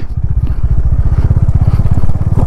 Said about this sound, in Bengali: আমাদের তো বাইক নিয়ে উঠতেই কালঘাম ছুটে যাচ্ছে